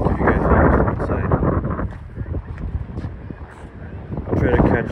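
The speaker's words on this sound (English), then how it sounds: "It's a little windy in here" Wind buffets the microphone near a shopping mall in Daly City, coming in loud rumbling gusts, and a voice speaks briefly beneath it.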